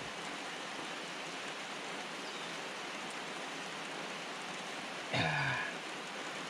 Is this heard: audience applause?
no